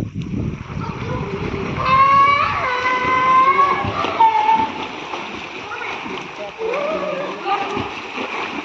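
Water splashes and sloshes in a water tank as children swim and jump in on a summer vacation, with excited voices and talk over the steady splashing throughout.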